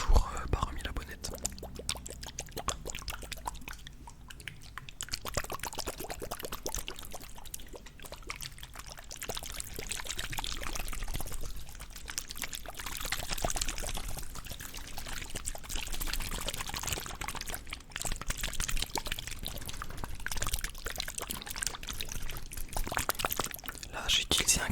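Small plastic water bottles and little flasks handled and poured close to the mic in a soft ASMR setting, with crinkles, taps and faint liquid trickles running continuously under quiet whispering.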